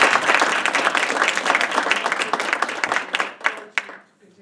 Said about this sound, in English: should we give a applause to